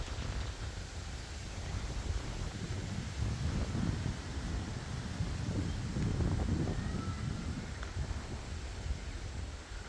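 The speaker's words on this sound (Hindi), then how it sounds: "दोबारा से ठंडी ठंडी हवा चल पड़ी है।" Cool wind blows outdoors across a village after rain, a steady broad rush with low rumbling gusts swelling and easing, no voices present.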